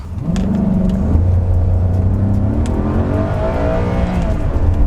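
A Maserati sports car engine at full throttle revs hard and climbs steadily in pitch through the gears, loud and close, a sustained roaring acceleration with no voices.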